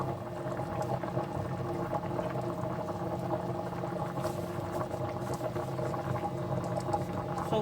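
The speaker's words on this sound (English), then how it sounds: "As you can see, it's boiling" Steady bubbling of croaker fish pepper soup boiling in a pot, a continuous close simmering patter with no talking.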